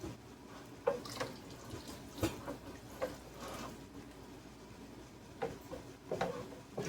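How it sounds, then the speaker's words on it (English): Melted beeswax being stirred and poured during rendering, faint scattered drips, scrapes and light knocks at irregular moments against a quiet background. "Stirring and pouring as we go."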